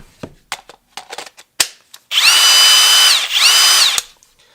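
After a few clicks and handling knocks, a Kobalt brushless hammer drill on a 4 Ah battery whines up in two close full-speed bursts, spinning up and winding down sharply, loud and near.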